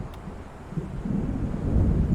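Low thunder builds into a deep, swelling rumble as a storm approaches over the water in Alan Wake Remastered, with wind noise and no voices.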